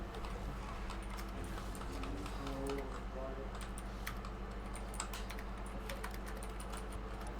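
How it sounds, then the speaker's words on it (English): Rapid, uneven clacking of fingers on a computer keyboard, fast bursts of sharp key clicks heard faintly over a low steady hum, with a voice murmuring in the background. "It sounds like angry typing."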